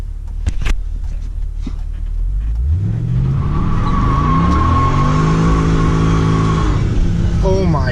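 A 2006 Pontiac GTO 6.0 with traction control off doing a first-gear burnout: a loud close V8 rises from idle into a sustained high-rev roar with tire squeal, and a few sharp clicks come first.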